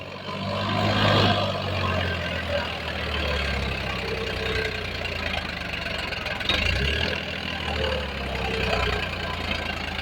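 A new 2025-model tractor idles on a farm with a low, steady, chugging engine rumble. The sound is close and fairly even, with slight swells in level and no talk over it.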